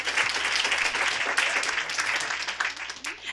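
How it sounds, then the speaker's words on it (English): A TEDx event audience at Lincoln Square claps in a dense, sustained round of applause that holds steady and then begins to thin toward the end. "give her a round of applause."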